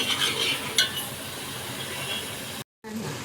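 Masala for a Khandeshi-style mutton rassa is stirred and fried in oil in a pan, giving a steady close sizzle broken by a few metal clinks of the spoon against the pan, and no talking.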